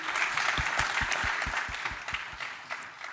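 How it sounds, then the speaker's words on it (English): Audience applause fills the room at a conference panel session, a dense, steady patter of many hands clapping that fades slightly toward the end, with no talking over it. "I think we can give them a round of applause for this first part of the session."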